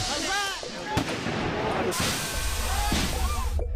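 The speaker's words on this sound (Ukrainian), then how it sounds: "Нічну тишу розрізають вибухи димових шашок та пітард." Several sharp bangs and pops of firecrackers and smoke bombs burst out at night in a Kyiv street over a busy noisy background, with a voice talking partway through.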